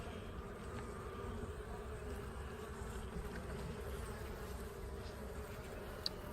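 Honey bees hum and buzz in a steady, dense drone around an opened hive, the swarm sound holding fairly faint and even throughout with no voices.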